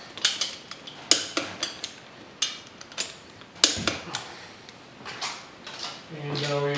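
A torque wrench clicks repeatedly on the bolts of a Harley-Davidson M8 engine being built up from 107 to 124, giving a series of sharp metallic clicks and ratchet sounds at close range with short pauses between them.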